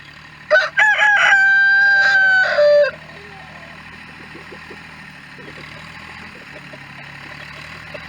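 A rooster crows loudly up close over a couple of seconds, with chickens clucking around it on a farm during a move to new pasture, then low idling tractor engines and faint clucks fill the rest.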